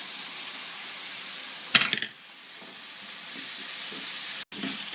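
Chinese noodles stirred and frying in a pan give a steady, close sizzling hiss, with a brief clatter of stirring partway through and a momentary drop in sound near the end.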